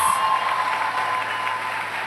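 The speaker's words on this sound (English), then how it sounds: "Let's applaud them one final time." An audience at a UCCI 2024 commencement ceremony claps for the graduates in steady, even applause throughout the short moment.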